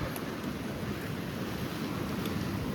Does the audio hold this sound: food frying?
no